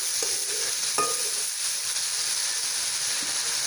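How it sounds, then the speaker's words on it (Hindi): Ginger garlic paste frying in a pan for zeera pulao, a steady close hiss and sizzle with a couple of faint knocks near the start and no voices. "हल्का सा अदरक लहसुन को फ्राई करेंगे।"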